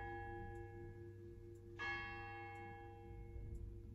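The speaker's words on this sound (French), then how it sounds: "dans le sud, il y a les cloches" Church bells in the south ring faintly in the distance, a single clear strike with a long, fading hum beneath a quiet, steady background.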